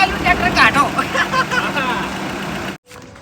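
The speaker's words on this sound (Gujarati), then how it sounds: "ફસાયેલું ટ્રેક્ટર કાઢો" A tractor stuck in the ground runs with a steady mid-pitched engine drone as people try to pull it free, voices talking over it before the sound abruptly cuts out.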